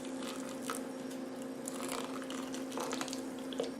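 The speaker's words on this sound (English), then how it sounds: "I'm going to pour it in there slowly" Boiling water is poured slowly into a container of gelatin and glycerine, a faint, steady liquid trickle and splash over a constant low hum, with no talking.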